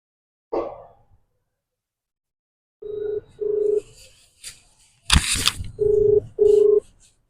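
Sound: telephone call ringing tone

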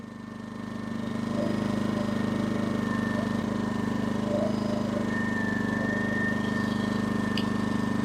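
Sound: portable generator engine running

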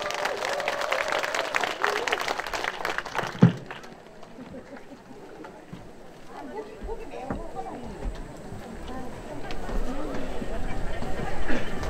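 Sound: audience applause

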